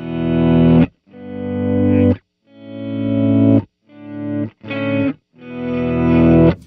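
Electric guitar through a Keeley Synth 1 pedal with the blend set fully left: six chords swell in gradually from silence, each cut off abruptly, rich and slightly distorted, with no voices.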